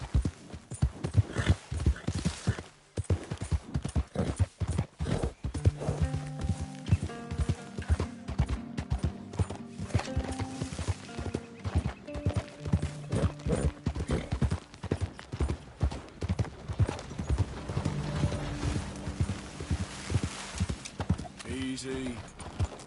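Hoofbeats of a horse galloping in Red Dead Redemption 2, a rapid continuous clip-clop with a brief whinny, accompanied by game music and occasional spoken words over the top.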